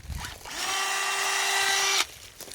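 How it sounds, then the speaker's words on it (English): A power drill bores into a log for a homemade fire log, whining steadily at close range for about a second and a half, then cutting off. "now we've got to get our drill out"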